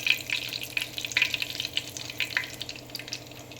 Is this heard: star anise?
yes